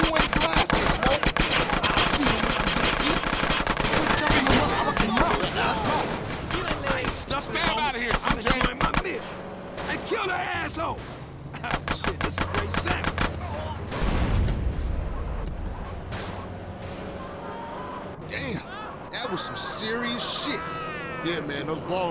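Dense, loud bursts of rapid gunfire and single shots ring out during a drive-by in the video game GTA San Andreas, near and continuous, with a voice speaking in between.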